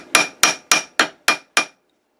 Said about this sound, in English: hammer it down a little bit,